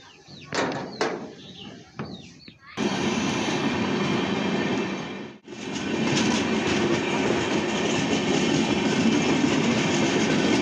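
A train runs along a railway line, starting with a few sharp clanks and then settling into a loud, steady rumble and rattle of wheels on the track that continues to the end.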